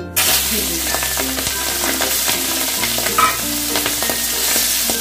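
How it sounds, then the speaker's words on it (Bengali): Shrimp fry in hot mustard oil with a loud, steady sizzle, and sharp spatters and utensil scrapes break through now and then. No one speaks. "প্রথমে চিংড়ি মাছগুলোকে ভেজে নেব।"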